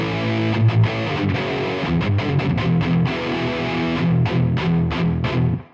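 Electric guitar through a Kuassa Efektor distortion plugin on its metal setting, thick chunky distorted chords and palm-muted chugs played loud and continuously, ending with a quick cutoff, no talking.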